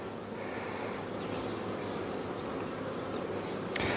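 Honey bees buzz densely and continuously while a package of bees is shaken into a hive, a close swarm drone with a steady hum and no talking.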